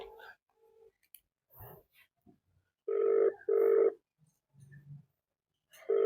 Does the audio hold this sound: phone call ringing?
yes